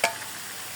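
Eggplant frying in a pan is stirred once, a short scrape at the start, then a steady close sizzle continues alone.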